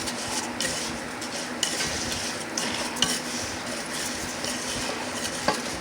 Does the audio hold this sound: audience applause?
no